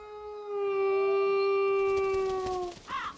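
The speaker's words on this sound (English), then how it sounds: "There's always this howling." A long, steady animal-like howl in the video game Kingdoms of Amalur: Re-Reckoning, one sustained tonal wail holding for over two seconds before tailing off, moderately loud, followed by a brief fainter cry.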